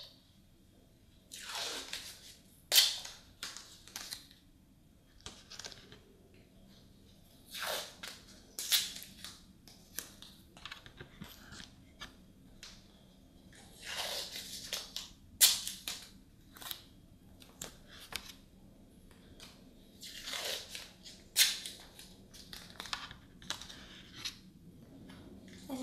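Fresh strips of tape pressed and smoothed onto a face, close and intimate crinkles and sticky crackles in separate bursts with quiet gaps between them.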